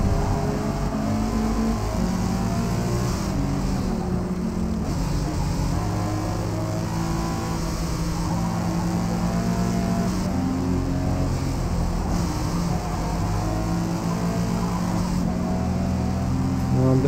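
Toyota GR Supra engine in Forza Motorsport revving steadily and loudly, with pitch rising and dropping through repeated gear shifts, a continuous racing drone from start to finish.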